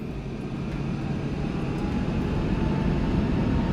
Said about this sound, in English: let's advance the throttles and let's take the aircraft off